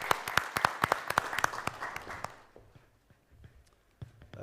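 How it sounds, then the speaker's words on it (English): Applause from a conference and awards ceremony audience welcoming the president to the stage, a scattered burst of claps for about two seconds that quickly thins to sparse claps and quiet. "Please, let's give him a round of applause and welcome him on the stage"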